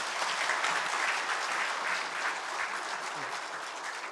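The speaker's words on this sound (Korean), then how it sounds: "우리 박수로 우리 축복하겠습니다." A church congregation claps during a Sunday morning worship service to bless a newborn baby, a steady, even round of applause filling the room without voices on top.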